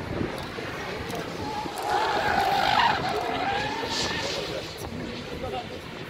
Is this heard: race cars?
yes